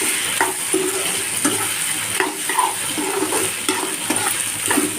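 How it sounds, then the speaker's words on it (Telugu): Stir-frying in a pan with no salt added, ahead of prawns and brinjal curry: steady sizzle and crackle with repeated scraping stir strokes throughout, close and fairly loud, no talking. "సాల్ట్ వేయకుండా ఒక 2 to 3 minutes అలా ఫ్రై చేసుకుందాము."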